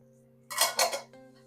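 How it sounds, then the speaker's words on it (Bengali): A metal lid lifted off a cooking pot of simmering palm-syrup pitha, two quick clanking scrapes close by over a faint steady kitchen hum. "এবার আমি ঢাকাটা খুলে দিচ্ছি"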